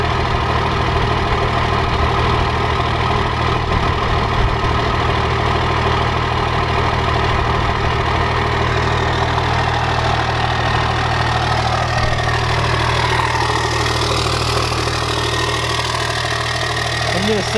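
A 12-valve Cummins diesel with a 5-inch straight-pipe exhaust idles loudly and steadily, a deep, constant rumble with a rough knocking texture that runs unbroken throughout.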